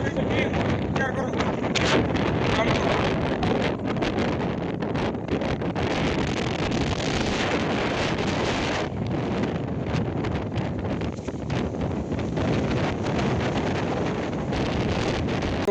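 Strong wind roars continuously against the microphone, loud and close, with gusty buffeting throughout and a voice heard faintly through it.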